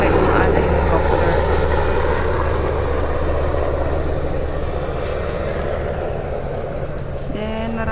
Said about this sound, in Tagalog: ayun, may dumaan na helicopter.